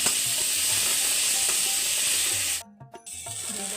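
A ground paste of ginger, cumin, garlic, green chilli and coriander sizzles loudly in hot oil with browned onions, a dense steady hiss that drops out briefly near the end with a few clinks of a spatula, then resumes.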